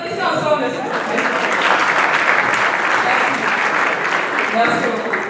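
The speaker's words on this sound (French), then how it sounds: "Applaudissez ensemble, s'il vous plaît" Loud, dense audience applause fills a hotel hall at the Miss Kivu pageant final in Goma, a continuous wash of clapping with voices and cheering mixed in, swelling and holding steady throughout.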